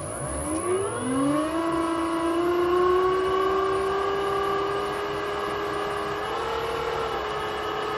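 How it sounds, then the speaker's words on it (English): A lathe motor, lightly loaded with a small oiled piece, winds up in speed, its whine gliding upward over the first two seconds and then holding a steady, fairly loud tone with no talking. "let's speed up the lathe a bit"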